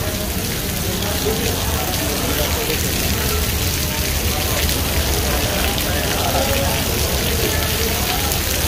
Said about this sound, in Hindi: और बारिश कम नहीं हुई है और तेज़ हो चुकी है पहले से भी